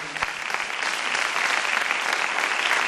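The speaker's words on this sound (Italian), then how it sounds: "veramente un applauso dedicato alla soprano Angela Bison," An audience in a theatre applauds a soprano at a centenary celebration, with dense, steady clapping that grows slightly fuller over a few seconds.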